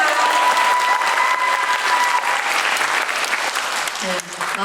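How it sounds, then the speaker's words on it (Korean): A packed film-festival screening audience at the Busan International Film Festival gives a sustained, dense round of applause that fills the hall. A voice is faintly heard near the end. "여러분 큰 박수 부탁드려요"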